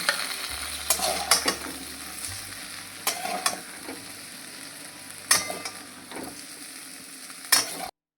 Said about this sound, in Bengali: একটু খালি নাড়িয়ে চাড়িয়ে নেবো 1 মিনিট মতো এইভাবে